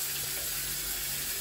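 A shower tap runs at its hottest setting, a close, steady rush of water without pause.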